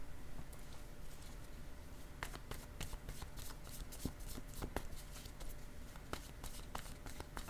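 Playing cards being shuffled or drawn by hand, a soft continuous patter of riffling with scattered sharp flicks and snaps, close and fairly quiet, with no talking.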